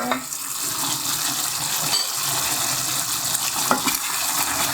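Beef caldereta with cheese simmers and bubbles in a pot, a steady close hiss of sizzling liquid with occasional stirring scrapes and soft clinks running throughout.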